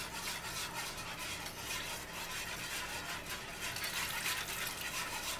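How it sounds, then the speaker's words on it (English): Water being stirred into a thick roux gravy in a skillet alongside fried pork chops, a steady soft wet swishing and scraping, quiet and continuous with no talk. "So I'm gonna add a little water to this because it's getting a little thick."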